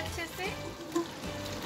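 Mutton pieces for Peshawari namkeen gosht fry in a pan with a steady, close sizzle and one brief clink of a spoon partway through.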